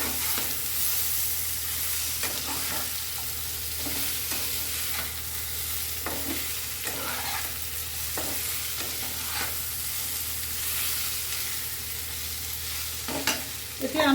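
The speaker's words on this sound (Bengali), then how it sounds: "আরেকবার নেড়ে দিচ্ছি।" Soft potato bhaji frying in a pan while being stirred, a steady low sizzle broken by repeated scraping strokes of the spoon, close and fairly quiet, no voices.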